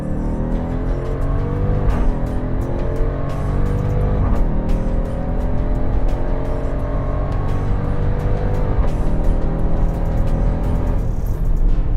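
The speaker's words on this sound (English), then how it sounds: "We're gonna go ahead and click that launch button," Jeep Trackhawk launching under launch control at full throttle, its engine roaring loud and close with steady rising harmonics as it accelerates hard through gear changes, a continuous powerful drone with no talking.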